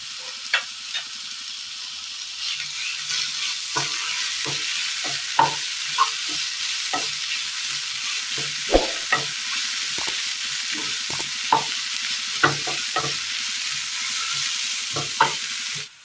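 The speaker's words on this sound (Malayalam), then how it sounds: "തക്കാളി ഒന്ന് വാടി കിട്ടിയിട്ടുണ്ട് ഈ സമയം ഇതിലേക്ക് സബോള അരിഞ്ഞിട്ടിട്ട് കൊടുക്കാം ഒരൽപ്പം ഇഞ്ചി ചതച്ചത് വെളുത്തുള്ളി ചതച്ചത്" Chopped onion, crushed ginger and garlic sautéing with softened tomatoes in a pan for a Kerala breakfast dish: a constant hiss of frying under repeated sharp scraping taps of a spoon stirring, with no talking.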